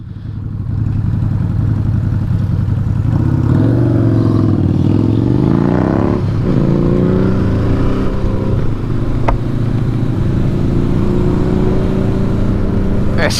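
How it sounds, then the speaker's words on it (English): A 2019 Honda CB500X motorcycle exhaust runs steadily and close, with a couple of throttle rises and falls layered over a loud, continuous rumble. "I'm just listening to your exhaust. It sounds awesome."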